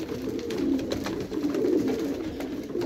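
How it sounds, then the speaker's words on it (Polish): Grey pigeons feeding and cooing up close, soft repeated throaty coos with light pecking and shuffling over a low background hum. "Zobacz jak to jedzą siwki."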